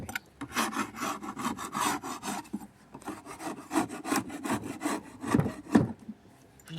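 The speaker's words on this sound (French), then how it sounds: "je vais avoir gratté toute la ruche" Repeated rasping scrapes of a hive tool against a wooden beehive, clearing off propolis, coming in quick uneven strokes close up with short pauses between bursts.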